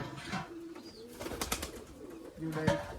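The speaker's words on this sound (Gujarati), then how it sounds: "આવી રીતનું કબૂતર છે" A wild-type pigeon gives a few soft, low coos close by, spaced across the moment amid quiet rustling and faint clicks, with no talk.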